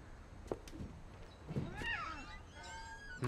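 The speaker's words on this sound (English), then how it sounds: "It's a little kitty cat." A small cat in What Remains of Edith Finch gives a few soft, separate meows, faint and close against a quiet background, with no talking.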